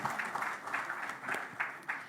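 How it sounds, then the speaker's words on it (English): At a cricket series jersey unveiling press conference, the audience gives a short round of applause, a moderate patter of clapping with a few sharper bursts. "A big round of applause, ladies and gentlemen."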